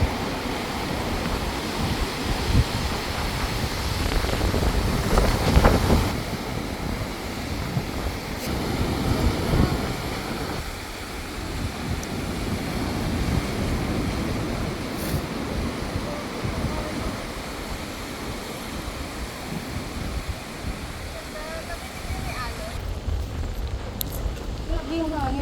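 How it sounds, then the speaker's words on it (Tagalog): Strong wind buffeting a boat at sea in the Maldives, a loud continuous roaring rush with gusty surges and splashing water, steady throughout, with voices talking now and then. "Grabe yung hangin, narinig eh."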